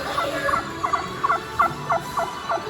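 A turkey gobble sound effect on the Gobbler Getaway ride at Holiday World repeats in quick, evenly spaced bursts over a low background hum, fairly close and clear.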